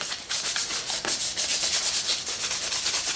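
Plastic mask scuffed by hand with a scuff pad, a loud close rhythmic rasping rub in quick back-and-forth strokes, continuous with no voices.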